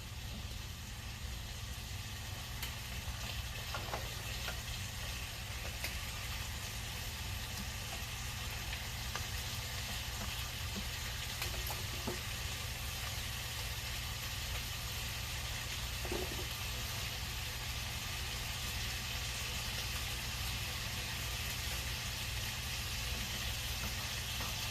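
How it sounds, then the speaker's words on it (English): Bacon frying in a heated skillet gives a steady, low hiss that runs unbroken under a constant background hum, with no talking. "Y'all see my bacon starting to get a little sizzle to them."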